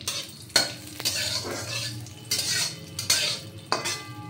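Frying in a pan for chocolate sandesh, with several distinct bursts of scraping and clanking as a utensil stirs against the pan, separated by quieter sizzling, close and clear, no speech.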